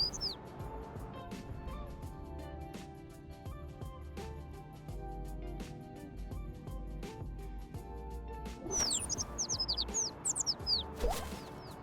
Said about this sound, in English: Oh, there's a bird over here.